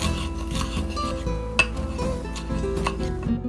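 Knife finely chopping cheongyang chili peppers on a cutting board in a home kitchen, a quick series of soft, irregular taps and scrapes with occasional sharper knocks, close up and without talk.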